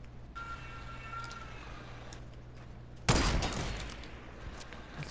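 Gunfire in the Fortnite video game bursts in loud and sudden partway through, a sharp crack that trails off into ringing noise over a steady game-engine hum and faint background tones.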